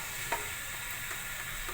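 Onions sizzle after going into hot oil for a bitter gourd keema dish, a brief steady frying hiss with one light clink near the start.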